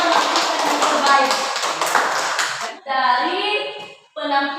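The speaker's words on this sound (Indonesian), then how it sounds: "Jadi tepuk tangan dulu untuk seluruh kelompok yang telah melakukan yang terbaik" Classroom applause for student groups who have just presented, a dense burst of clapping that stops abruptly, followed by short bursts of talking.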